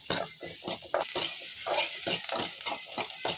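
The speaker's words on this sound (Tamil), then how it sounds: "வெங்காயம் வந்து நல்லா கோல்டன் ப்ரௌன் ஆகிற வரைக்கும் நல்லா வதக்கிக்கலாம்" Small onions and cumin sauté in butter with a close, continuous sizzle broken by rhythmic scraping strokes of a spoon stirring the pan, repeating roughly every third of a second; no one speaks.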